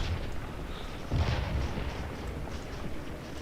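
Artillery canister fire in the Civil War video game Scourge of War: a rolling, muffled boom swells about a second in and then fades into a dense, continuous rumble of distant gunfire.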